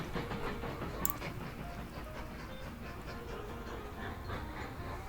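Freight train running in the Mashinky railway game: steady rolling rumble with rhythmic clickety-clack of wagons passing over rail joints, moderately close and continuous, with no talking.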